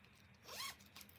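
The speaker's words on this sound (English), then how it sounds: "There's a zipper here with a large pocket." A quick zipper pulled along the large pocket of a bag, one short close rasp rising and falling, followed by a faint second scrape in an otherwise quiet room.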